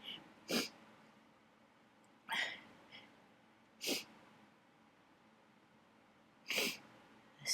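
Someone sneezing in a hot attic during summer in Dublin, four short bursts spread apart, fairly faint over a low hum of room noise.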